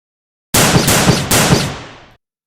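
Two sharp, loud revolver shots ring out in quick succession, each a broadband crack with a decaying tail, fired outdoors at a tree; no talking.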